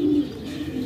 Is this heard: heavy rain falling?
no